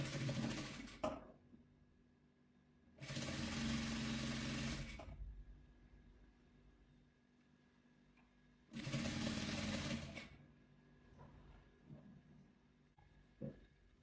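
A sewing machine stitches patchwork squares into a two-colour chequerboard quilt, running in three distinct bursts of steady whirring with quiet gaps and small clicks between them.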